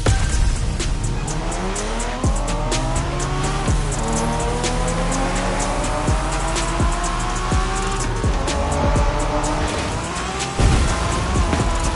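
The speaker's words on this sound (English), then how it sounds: "We're going for some proper Japanese street racing." Tires squeal repeatedly in The Crew during a Japanese-style street race, sharp skids over a loud revving car engine that shifts pitch through gear changes, continuous and close with no talking.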